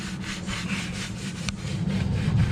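A red Scotch-Brite pad scrubs a multi-piece BBS wheel soaked in cleaner, giving a close, rhythmic back-and-forth abrasive rasp in quick repeated strokes that grows slightly louder toward the end.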